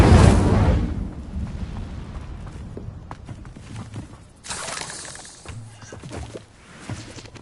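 An Incendio fire spell cast in Hogwarts Legacy bursts with a loud, booming whoosh at the start, then fades into quieter crackles and a brief later flare-up.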